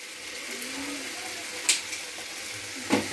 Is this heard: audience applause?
no